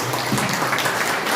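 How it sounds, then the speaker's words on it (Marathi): Audience applause for performers: dense, steady clapping from a crowd fills the whole moment at an even level, with no break or build. "कलावंतांसाठी एकदा जोरदार टाळ्या व्हायला पाहिजे."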